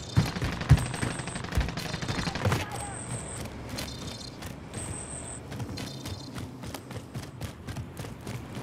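Gunfire in the video game Call of Duty: Warzone comes as scattered sharp shots and short bursts over a busy game mix with intermittent electronic beeps, mostly in the mid-distance.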